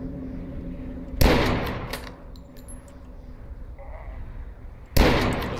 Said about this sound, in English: Yeah, they're definitely shooting at me.